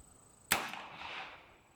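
A single sharp shot from a Colt Trooper Mark III revolver firing .38 Special at an outdoor range cracks out once, moderately close, then trails off in a short, fading echo with no talking.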